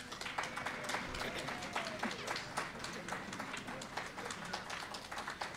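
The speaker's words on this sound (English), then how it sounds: "Please join me in a final thank you to everyone who helped make this event possible with a round of applause." Audience applause at an outdoor holiday Festival of Lights event, a moderately faint, steady patter of many hands clapping continuously for several seconds.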